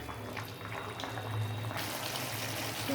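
Curry simmering in a pan as its water cooks down, giving a steady, continuous bubbling and sizzling that stays close and even throughout, with no talking.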